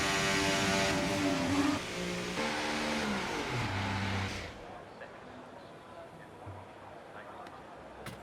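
F1 car engine on a flying qualifying lap at the Saudi circuit in F1 24, a loud high-revving whine stepping through gear changes, then dropping away to a quieter rumble partway through.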